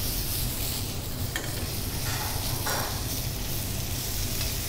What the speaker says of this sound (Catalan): Mentre estem enrossint el trinxat